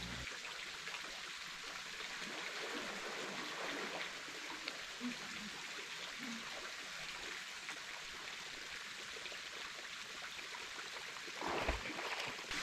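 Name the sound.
small waterfall and stream at a natural pool in Trinidad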